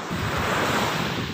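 Ocean waves and wind at Sinutuk beach, a steady, broad rushing wash of surf and gusting air buffeting the microphone, with no voices.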